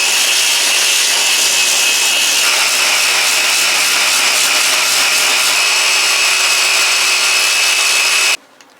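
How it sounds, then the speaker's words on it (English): A Festool Rotex 125 random orbital sander works over a surface being finished with water-based gloss enamel. It gives a loud, continuous abrasive whir close by, then cuts off abruptly near the end. "Got the old fast tool out, the Rotex 125, random orbital, has a variable speed"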